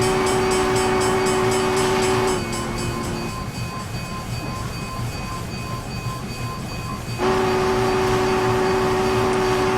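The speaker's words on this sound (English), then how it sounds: "Can't really do a short blast on this whistle, so I'm just blowing the horn." A Union Pacific Challenger steam locomotive in Train Simulator on Donner Pass sounds a loud sustained horn blast over rumbling running noise, which drops away mid-clip before the horn returns strongly.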